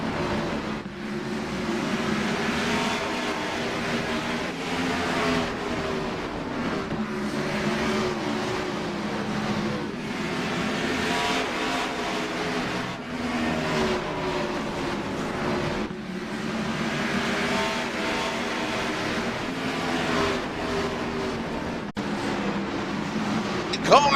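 Race cars roar around Bristol in iRacing with a continuous loud engine drone and shifting revs, as a dense pack passes through, while commentators talk over it.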